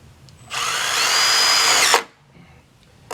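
A power drill drives a screw into a wooden box in one steady whirring burst of about a second and a half, close and loud, with brief quiet before and after.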